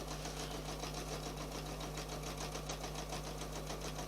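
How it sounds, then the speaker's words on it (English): A sewing machine runs a straight stitch around a 15-inch circle, giving a steady, fairly quiet motor hum with an even, rapid needle pulse throughout, with no voices. "I'm just sewing with a straight stitch, and it is literally working itself"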